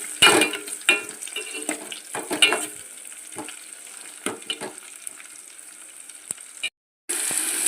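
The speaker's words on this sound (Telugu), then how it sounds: "కొద్దిగా కరివేపాకు వేసేద్దాం తాలింపులో." Curry leaves hit hot oil in a tempering of mustard seeds, fenugreek, cumin and onion for brinjal curry, crackling loudly in sharp bursts with stirring scrapes, then settling into a steadier sizzle after a brief dropout.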